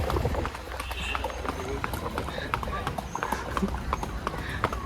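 A ridden horse near Kodaikanal Boat House clip-clops along in a steady, close hoof rhythm, with people talking over the sound.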